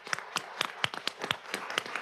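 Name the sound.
applause for school advanced band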